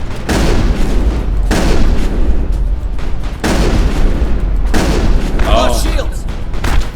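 Shotgun blasts in the Mass Effect video game land as repeated loud, heavy booms, roughly four spaced bursts, each followed by a short decaying rumble, with a brief voice heard amid the fire.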